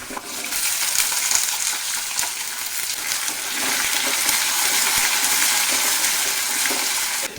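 Shallots sautéing in oil in a pan with curry leaves, green chillies, ginger and garlic, a steady bright sizzle with occasional stirring clinks, close and continuous without speech.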